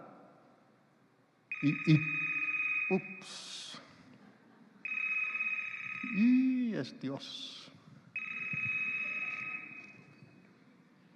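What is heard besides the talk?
mobile phone ringtone ringing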